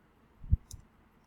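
Two or three quick, soft keystrokes on a computer keyboard, close and isolated, with a faint higher tick between them in an otherwise quiet room.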